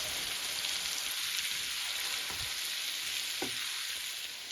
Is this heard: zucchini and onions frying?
yes